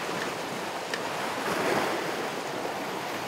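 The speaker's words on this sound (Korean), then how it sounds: "이 물이 파도 치면 저 꼭대기까지 올라간다는데" Sea waves surge and break against a rocky shore on the southern Korean coast, a steady broad roar with wind noise buffeting the microphone throughout, no voices heard.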